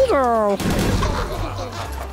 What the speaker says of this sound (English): what's with this cannon?